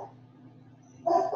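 Dogs bark in a short burst near the end, loud and close, after a stretch of quiet room tone with a low steady hum.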